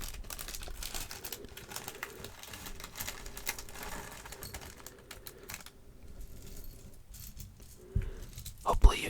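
Small Lego pieces tumble out of an opened bag in a dense, close, soft plastic clatter that runs steadily and ends with a few louder rattles near the finish, with faint background murmur.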